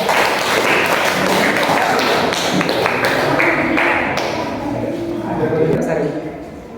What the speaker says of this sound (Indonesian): Tepuk tangan untuk Garuda.